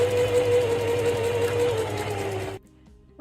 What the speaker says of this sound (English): I'll continue to sew